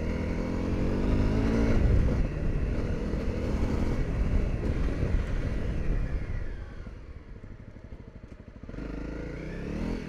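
A motorcycle engine runs close by on a test ride, a loud, rough drone that swells and revs before easing to a lower idle-like note, then rises again near the end; no talking.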